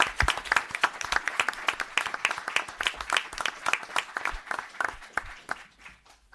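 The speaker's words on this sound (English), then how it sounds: "a nice round of applause for Detective Colin Houlihan on the job well done" Applause for a police detective at a town board meeting: a smaller crowd clapping in distinct, uneven bursts, fairly close and moderately loud, thinning out toward the end.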